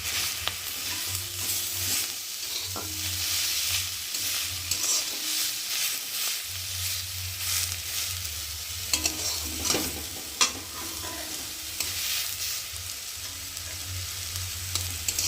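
Close, continuous sizzle of leaves frying in a pan, broken by repeated scraping stirs and occasional utensil knocks, with no talking.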